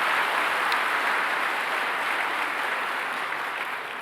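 Applause from married Presbyterian elders at a retreat lecture in a church, a continuous even wash of clapping that stays full and steady, easing slightly at the close.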